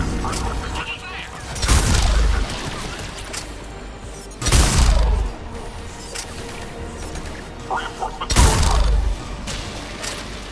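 Gunfire and heavy impacts during an attack in the Mass Effect video game, three loud booming bursts spaced a few seconds apart over a rumbling background.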